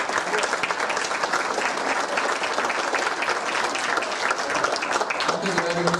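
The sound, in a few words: audience applause for the lecturer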